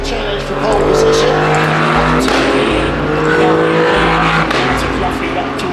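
Race cars from a European Le Mans Series qualifying session at Silverstone roar past near Woodcote, with loud engines rising and falling through gear changes and repeated passes, under a commentator's voice.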